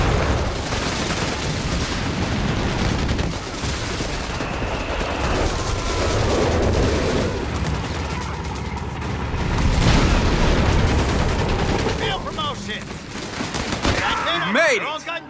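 Heavy gunfire and explosions in the World War II strategy game Company of Heroes 3 make a dense, continuous battle din of rattling machine guns, rifle shots and deep booms, with shouting soldiers heard amid the fighting.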